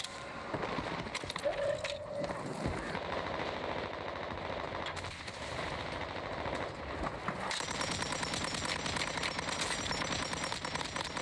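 Rapid automatic gunfire from the Warzone Mobile shooter game, dense bursts running continuously throughout with a brief lull mid-way, loud and close with layered game effects.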